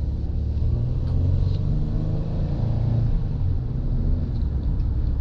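A 2015 Ford Police Interceptor Utility pulls away from a dead stop in city driving, its engine a steady low rumble heard from inside the cabin, rising slightly as it accelerates, with no talk.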